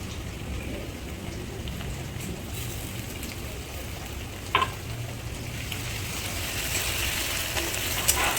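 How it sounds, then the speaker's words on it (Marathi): Onion frying in a hot spice tempering with ginger paste, black pepper, cloves, cinnamon and cumin, giving a steady broadband sizzle throughout with a brief sharp clink midway, close and moderately loud, no talking. "आता मी कांदा टाकते फोडणीला"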